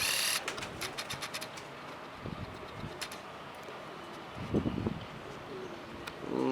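Soft pigeon coos repeat a few times amid a busy outdoor background of faint chirps and steady noise, with a louder cooing burst near the end.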